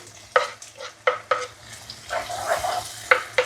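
Tomatoes go into a pan for creamy castellini pasta, giving a sizzle broken by several sharp, clattering stirs at irregular intervals. The frying is moderately loud and close, with no talking.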